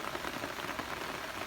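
Light rain on a calm, windless day, falling as a soft, steady hiss of drops on the ground and plants outdoors.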